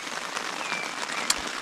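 Rain falls on a camping tent as a dense, steady patter of close drops, with one brief sharper tap near the end.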